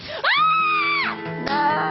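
A loud, sustained human scream rises sharply, holds for about a second, then breaks into a second shorter yell, close and piercing, with a faint background voice beneath.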